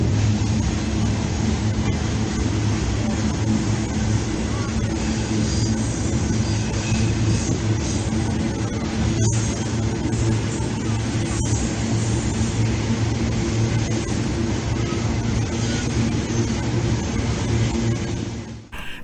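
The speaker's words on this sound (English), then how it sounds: "And that train goes on and on and on." A long train passes with a continuous heavy rumble and rolling clatter, loud and steady for nearly twenty seconds with a few sharp clanks along the way.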